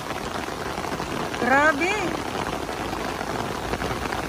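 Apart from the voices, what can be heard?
sudden rain at Dolomite Beach, Manila Bay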